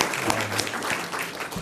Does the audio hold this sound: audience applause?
yes